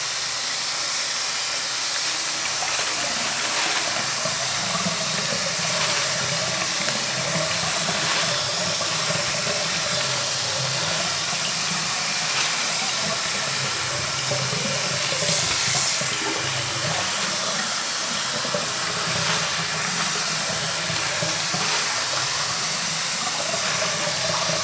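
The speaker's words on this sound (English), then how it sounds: "I'm quickly going to run this LECA under running water for a little bit." Tap water runs steadily into a bathroom sink, rinsing LECA clay pebbles, a loud continuous hiss and splash lasting the whole stretch with faint rattling of the pebbles and no talking.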